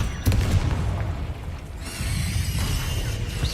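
A Confringo fire-blast spell bursts in Hogwarts Legacy with a deep booming rumble, followed by a crackling, fizzing tail and a brighter magical shimmer that lingers to the end.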